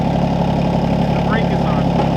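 A vehicle engine idles and runs steadily at close range as it is driven onto a dirt driveway, a continuous low rumble with brief faint squeaks over it.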